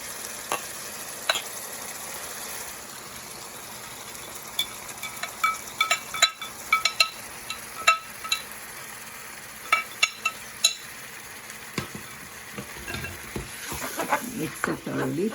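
Eggplant bhartha paste with turmeric frying in a pan as it is stirred: a low, continuous sizzle broken by scattered sharp clicks and scrapes of the spoon, growing busier toward the end.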